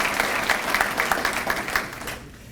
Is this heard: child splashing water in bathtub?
no